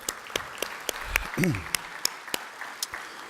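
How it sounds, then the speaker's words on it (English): Scattered, sparse hand claps ring out in a quiet room, a thin round of applause with a brief voice murmuring partway through. "let's have a round of applause"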